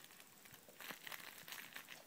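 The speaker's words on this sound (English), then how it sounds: "Crinkly toy layer." Faint crinkling and crackling of crumpled plastic in a crinkly dog toy, a few soft bursts as it is squeezed nearby against a quiet background.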